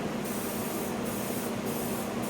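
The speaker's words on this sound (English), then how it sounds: "this is anti-splatter spray" Anti-splatter spray for MIG welding hisses from a can in one steady, close, continuous burst, alone without talk.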